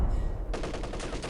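An MG34 machine gun fires in Company of Heroes, a short quick burst of rapid shots that cuts in abruptly and rattles evenly, close and loud.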